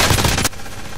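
An RPD light machine gun fires in the video game Warzone, a loud, rapid burst of rattling shots lasting about half a second before cutting off abruptly into quieter background.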